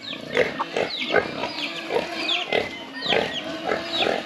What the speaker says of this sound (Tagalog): kilakas kumain ng mga baboy natin yan